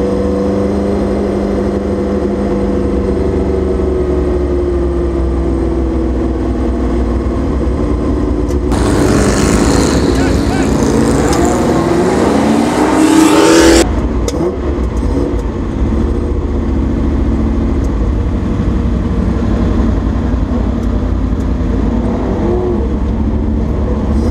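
A 1969 Porsche 908 LH race car lapping Laguna Seca, heard from onboard: a loud, steady engine drone whose pitch rises and falls through the corners, with a rushing, roaring surge midway.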